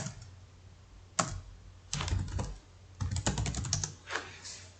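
Typing on a computer keyboard comes through as several short bursts of clicking keys, some single taps and some quick runs, fairly close and with no talking.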